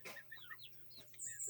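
A single skittish chicken gives soft, faint clucks and chirps in a brief quiet moment.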